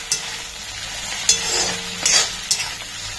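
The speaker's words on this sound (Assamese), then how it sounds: "এতিয়া মাংসখিনি অকমান কম জুইত মানে ফ্ৰাই কৰিম" Pork pieces frying in oil over a low flame, a soft continuous sizzle broken by a few sharp scraping stirs, close and moderately loud with no talk.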